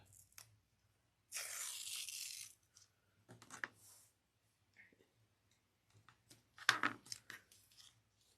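Strong double-sided hyper tape pulled off a handbag pattern piece in one loud, sustained ripping tear, followed later by scattered small crinkles and ticks, close up.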